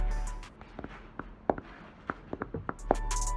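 Fingers tapping a touchscreen while performing a turbo stall chain in Rocket League Sideswipe, giving about a dozen soft, close taps in an irregular rhythm over quiet room noise.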